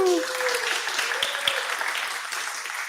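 Audience at a CityJS pre-conference web components workshop applauding steadily, a dense wash of clapping with a few whoops, heard fairly close and sustained for the whole stretch.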